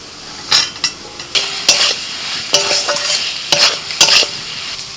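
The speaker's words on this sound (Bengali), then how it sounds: "এবার ভাজা আলুগুলো দিয়ে দিচ্ছি" Fried potatoes are stirred into a frying spice masala in a metal pan: loud, close sizzling with repeated scraping strokes of a spatula and clanks against the pan, and no voices.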